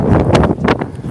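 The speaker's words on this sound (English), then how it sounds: "Whoops, it's windy." Strong outdoor wind buffets the microphone in a dense, continuous low rumble with gusty surges, loud and close throughout.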